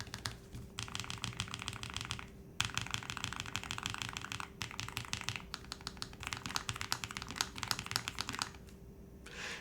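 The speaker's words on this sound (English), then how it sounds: "I've heard that this keyboard doesn't sound too bad." Rapid typing on a Lofree Edge low-profile mechanical keyboard comes in several bursts of fast, crisp key clacks, separated by brief pauses, close and fairly quiet.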